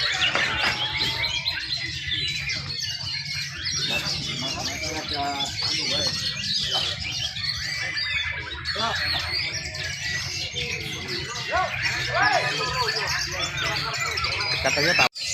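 At a songbird competition in Batam, Indonesia, many ornamental songbirds chirp, trill and squawk in a dense, steady chorus that never lets up. People talk beneath the birdsong throughout.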